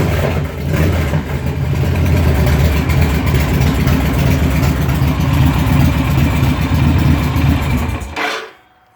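A cold 2004 Victory Kingpin motorcycle engine idles loud and close with a steady, low rumbling throb, then shuts off abruptly near the end.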